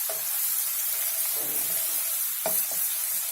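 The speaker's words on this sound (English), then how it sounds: "We want these chilies to fry a bit." Green chili, ginger and curry leaf paste frying in hot oil, a loud, steady hiss and sizzle up close, with a few brief stirring scrapes.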